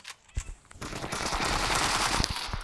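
Rapid automatic gunfire in a video game, loud bursts of dense crackling shots that run almost continuously after a few sharp opening reports.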